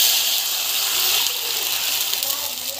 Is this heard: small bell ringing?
no